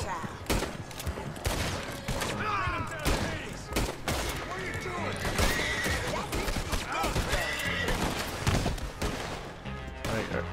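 A horse neighs repeatedly amid rapid bursts of gunfire in the Red Dead Redemption 2 video game, loud, close and chaotic, with shots and whinnies overlapping throughout a tense outdoor firefight.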